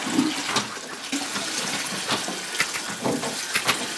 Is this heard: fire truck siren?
no